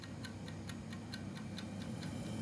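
A kitchen timer ticks in a steady, even rhythm of about four ticks a second while chicken cooks, soft and close against a faint background hiss.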